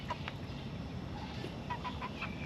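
Backyard chickens at a home garden in Taiwan give soft, scattered clucks at a distance, faint against a steady low background hum.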